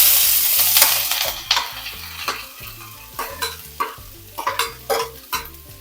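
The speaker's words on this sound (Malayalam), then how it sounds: "ഇതെല്ലാം ഒന്ന് വഴറ്റിയെടുക്കാം" Grated ginger, garlic and chopped curry leaves sautéing in a hot pan: continuous oily sizzle broken by repeated sharp scrapes and knocks of a spoon stirring, up close and loud, with faint music underneath.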